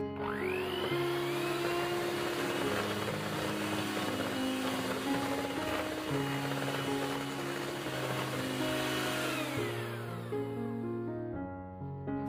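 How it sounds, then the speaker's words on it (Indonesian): An electric mixer whirs steadily and loudly, beating an egg into butter for nastar cookie dough, a continuous motor drone with small shifts in pitch before winding down at the end. "masukkan 1 butir telur. Kocok kembali hingga rata"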